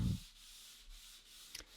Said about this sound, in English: Now it's time for sanding.